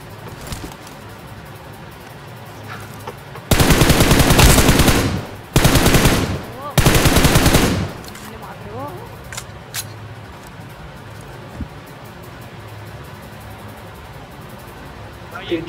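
Loud, close bursts of M4 rifle fire in the game BGMI, with three rapid automatic volleys in quick succession. Quieter ambient game sounds and occasional small clicks come before and after.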